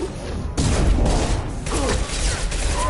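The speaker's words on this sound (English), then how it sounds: "Flashbang!" Flashbang grenade going off in the video game Mass Effect 2, a sudden loud broadband burst that rings out over dense combat noise, with talk mixed in.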